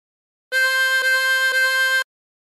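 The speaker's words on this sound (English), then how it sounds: "Blow into four, three times." Harmonica blown into hole four, giving three identical sustained notes in a row, clear and close with brief breaks between them and no voice.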